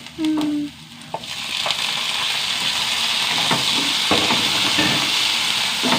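Tomato dropped into gravy frying in a pan, with steady broadband sizzling throughout, brief scraping stirs and a few soft clinks of a utensil against the pan, close and fairly loud, no talking.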